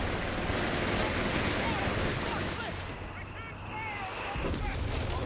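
Continuous battlefield gunfire in the real-time strategy game Company of Heroes 3, a dense rattle of machine gun and rifle shots with distant booms, steady and loud throughout, no talking.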